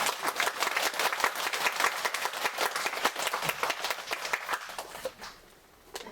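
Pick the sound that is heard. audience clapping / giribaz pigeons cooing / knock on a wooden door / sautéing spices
audience clapping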